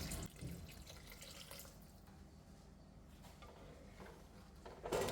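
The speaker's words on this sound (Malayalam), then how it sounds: "മിക്സിയുടെ ജാറൊന്ന് കഴുകി ആ വെള്ളം കൂടി ഒഴിക്കാം" Water used to rinse a mixer jar is poured into a pot of ash gourd curry, making a faint, soft trickle and splash with a louder spill at the start and near the end.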